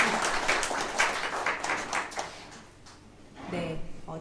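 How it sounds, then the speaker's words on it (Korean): An audience at a book launch for a memorial webtoon gives a warm round of applause for the authors, dense clapping that thins out and fades after a couple of seconds. "재능과 정말 귀한 시간 내주신 작가님들께 다시 한번 큰 박수 주시기 바랍니다"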